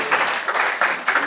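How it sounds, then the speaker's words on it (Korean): A church congregation claps in loud, rhythmic bursts, about four sharp swells of applause in quick succession. "왕영광 큰 소리 박수해 주십시오"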